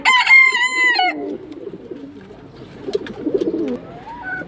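A loud, harmonic crowing call opens, then low, soft cooing from high-flying flyer pigeons murmurs on close by, with faint chatter of other birds.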